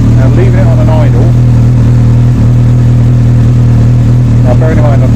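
Honda CBF1000 motorcycle engine idling while stationary, warm, with its cooling fan running and a suspected faulty stator: a loud, close, steady low drone with faint background sounds.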